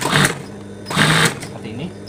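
A sewing machine stitches the lining of a mukena along its overlocked seam in two short, close bursts, with someone talking between and over them.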